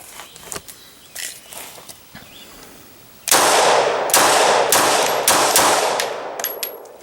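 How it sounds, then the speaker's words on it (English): Pistol gunshots from a handgun jammed with a heavy gum polymer obstruction: a rapid string of loud, sharp cracks close by, with a few quieter knocks and clicks beforehand. "let's shoot this thing"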